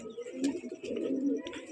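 A breeding pair of pigeons coos close by, with continuous soft, throaty cooing and a few brighter chirpy notes rising over it.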